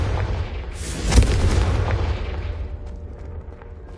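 A Confringo explosion spell from the video game Hogwarts Legacy bursts with a loud, deep boom, followed by a rumbling roar that fades out over a few seconds.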